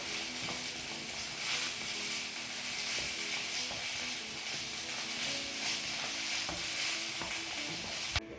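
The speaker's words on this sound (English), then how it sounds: "What we're going to do now is we're going to add in some black pepper. Give that a mix in." Black pepper is stirred into a simmering onion gravy, producing a steady close hiss and bubbling sizzle with faint spoon scrapes throughout, no voices.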